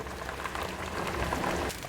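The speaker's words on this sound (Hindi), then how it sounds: "देखिए पानी को उबाल आना शुरू हो गया।" Water starting to boil in a pot for pea rice, a soft continuous bubbling patter like light rain, faint and steady throughout.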